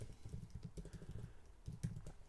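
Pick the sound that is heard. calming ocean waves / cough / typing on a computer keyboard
typing on a computer keyboard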